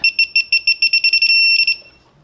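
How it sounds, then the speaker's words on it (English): A torque tool used during a Honda CB900F motorcycle clutch replacement emits a rapid series of sharp, loud electronic beeps, then one longer held tone before a final pair of beeps fades out. "The 3 dots will go beep, beep, beep as it goes up."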